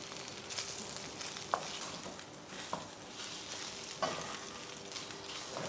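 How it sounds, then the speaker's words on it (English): Black Angus beef spread out in a hot pan with oil, sizzling and frying steadily close by, with a few sharp clicks and pops scattered through. "And then we're going to put in all our meat and then spread it out so we get a nice sear on it."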